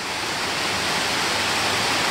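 Benton Falls, a waterfall on a hiking trail, roars as a steady, loud, broadband rush of falling water heard up close with no breaks.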